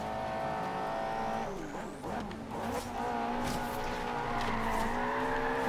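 Stock Ferrari race car engine in Forza Horizon 3, a loud steady roar with rising revs, tire squeal and a skid around the middle, continuous and close throughout.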